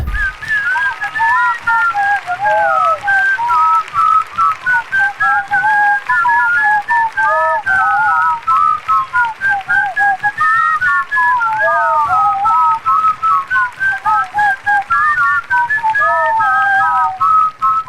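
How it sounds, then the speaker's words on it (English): Someone whistles a lively classic rock melody close by, the tune rising and falling continuously with no other sounds. "Hear your favorite classic rock tunes whistled."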